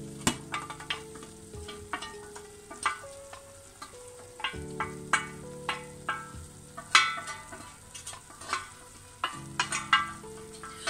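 Leeks cook and sizzle in their pan juices, a quiet crackling fry broken by frequent sharp scrapes and clicks from stirring.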